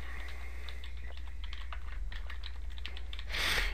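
Keystrokes on a computer keyboard while a value is entered into an Excel worksheet, quiet scattered clicks at an irregular pace over a steady low hum, ending in a brief louder burst.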